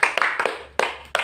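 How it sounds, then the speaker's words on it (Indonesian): A sixth-grade class gives a brief round of clapping for a student, a few separate sharp claps landing in an uneven rhythm, close and fairly loud in a quiet room. "Tepuk tangan untuk Novi."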